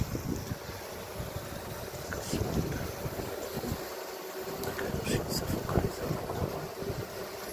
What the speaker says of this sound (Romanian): bate un pic vântul și asta e cam deranjant pentru ele